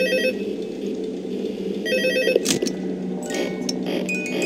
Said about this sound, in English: new phone call.